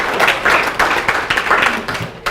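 Brief applause from a church congregation, a steady patter of many hands clapping for a little over two seconds, fairly close and full, with no talking over it.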